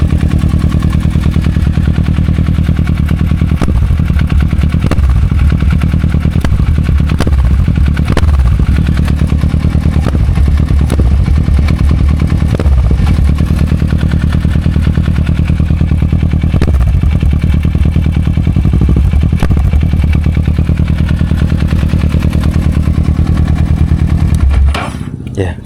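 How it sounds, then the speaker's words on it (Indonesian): A Kawasaki ER6n motorcycle with a loud aftermarket exhaust idles and revs close by, its deep continuous rumble punctuated by sharp throttle blips and crackling pops, running throughout before cutting near the end. "Ngeri sih emang suaranya ini AR6 nih, terlalu gahar ya untuk motor dengan bodi yang mungkin ya masih proporsional ya"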